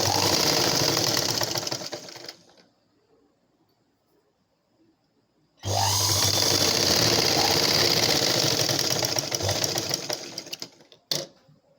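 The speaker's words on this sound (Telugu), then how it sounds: "ఇప్పుడు పైనుంచే స్టిచ్చింగ్ చేసుకోవాలి." An electric sewing machine stitching a blouse runs in two steady, loud bursts of fast mechanical whirring, separated by a few seconds of near silence, ending with a brief click.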